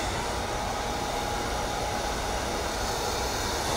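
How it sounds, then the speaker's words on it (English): A twin turbo blow dryer fitted with a diffuser roars in a steady, loud, constant rush of air from start to end, with no breaks and no voices. "It's a twin turbo blow dryer."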